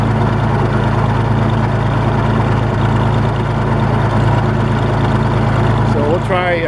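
A loud, steady Oliver 70 tractor engine drone with a low mechanical hum and gear whine running continuously, close by, with a brief squeal near the end.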